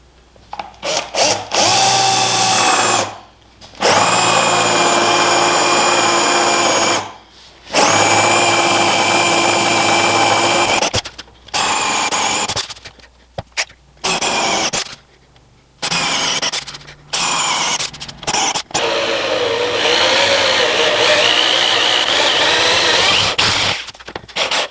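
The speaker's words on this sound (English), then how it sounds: "this will at least get me started with a nice clean hole, and then I'll switch to an auger bit and finish the hole out" A power drill bores a hole into a thick workbench top, first with a Forstner bit and then an auger bit, in loud sustained whining bursts separated by short silent pauses, with no talking.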